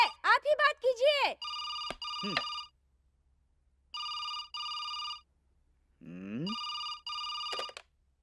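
A telephone rings in bursts of electronic trills, two bursts, a pause, then two more, with voices speaking and exclaiming at the start and in between.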